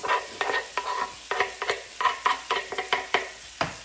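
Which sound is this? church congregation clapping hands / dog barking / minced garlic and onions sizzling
minced garlic and onions sizzling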